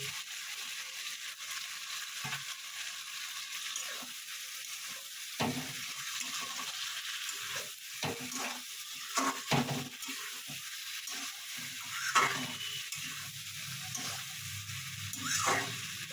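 Vegetables and previously fried flat beans sauté in a pan, a soft steady sizzle broken by scrapes and knocks of a spatula stirring, fairly quiet and close with no talking.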